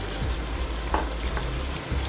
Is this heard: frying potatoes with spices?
yes